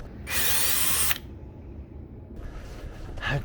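A power drill drilling into a door frame whirs in one loud, steady burst of about a second, followed by quieter handling noise and a brief scrape at the end.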